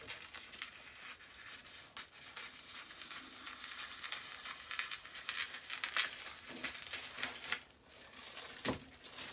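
Scissors cut through plush minky microfiber fabric at close range, a continuous soft crinkling, rustling texture with scattered crisp snips and brushes over several seconds.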